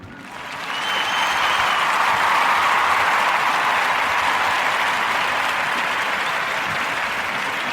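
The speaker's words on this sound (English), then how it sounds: "we're going to give a warm narrative podcast round of applause" Warm applause from a podcast audience rises within the first second into a dense, steady wash of clapping that holds loud and even for several seconds, with no talking over it.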